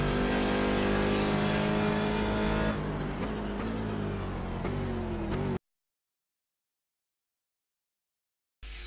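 Race car engine on a lap of Watkins Glen in a racing video game, loud and steady with gear changes and revs shifting as it runs down toward the pit straight, then cutting to silence before briefly resuming at the end.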